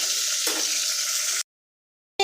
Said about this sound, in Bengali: তেল গরম হয়ে যাওয়ার পর দিয়ে দিচ্ছি পেঁয়াজ কুচি